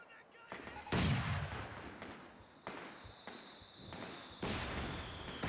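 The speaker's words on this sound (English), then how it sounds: "You need indirect fire? Commencing barrage." Artillery barrage in a video game, several heavy booming impacts landing one after another at irregular intervals, moderately distant and rumbling, with a thin steady tone running underneath.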